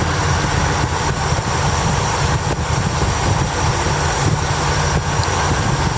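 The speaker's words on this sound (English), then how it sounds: "Runs really strong, no valve train noise." An unrestored 1967 Chevrolet Corvette coupe with its original numbers-matching 327 V8, rated at 350 horsepower, idles with a smooth, steady, continuous rumble.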